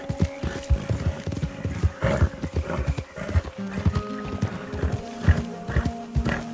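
A horse galloping in Red Dead Redemption 2, with rapid, uneven hoofbeats thudding close and loud throughout, along with snorting and a few tonal whinny-like calls, and no speech.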